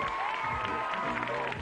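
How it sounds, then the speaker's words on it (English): A studio audience at a 1994 children's game show breaks into applause and cheering for a contestant, with a steady clapping wash throughout and a voice talking over it. "Give him a big round of applause, guys."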